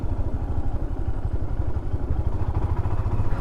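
A motorcycle rides a winter mountain road from Zuluk toward Siliguri in Sikkim, its engine a close, continuous low rumble with a rapid pulsing clatter and wind noise throughout.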